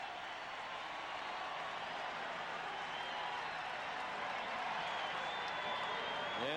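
A baseball stadium crowd in Atlanta applauds and murmurs before a 1992 World Series game between the Toronto Blue Jays and Atlanta Braves, a steady distant wash of clapping and crowd noise.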